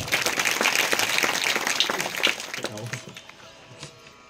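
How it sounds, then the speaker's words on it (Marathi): An audience at a village kirtan in Kalegaon bursts into loud applause for the sound system operator, a dense clatter of many hands that thins and fades over the last couple of seconds as a voice begins. "एकदा साऊंड सिस्टीम वाला दादा करता जोरदार टाळी वाजवा एकदा"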